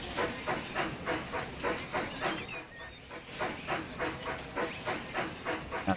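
A steam locomotive runs in the Railroad Tycoon 3 video game with steady, rhythmic chuffing and hissing pulses, loud and even throughout, with no voice over it.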